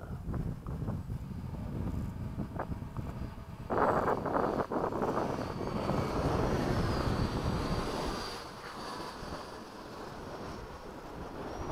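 Two 80mm ducted-fan RC jets fly in formation outdoors: an E-flite F/A-18D with a 2100kv fan and a Freewing F-86. Their fans give a rushing roar with a thin passing whine, mixed with wind noise, rising and then fading.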